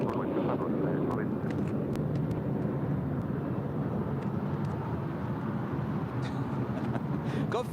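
A JetBlue airliner taking off from runway 25 right at LAX: a loud, continuous broadband jet roar fills the scene throughout, with radio-style voices talking over it.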